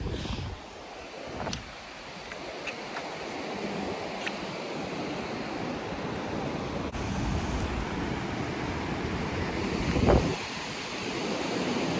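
Surf rolls in at Pismo Beach on the California coast, a broad steady rush with wave swells cresting every few seconds, mixed with gusty wind buffeting the microphone.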